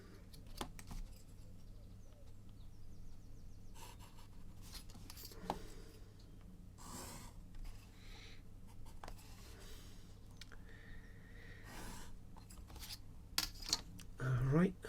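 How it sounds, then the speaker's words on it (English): Pen scratching across paper while a right-angled triangle diagram is drawn for a Pythagoras problem, a quiet close steady scrawl with short strokes and pauses, faint room tone behind and no talking. "And we always draw a diagram for these questions."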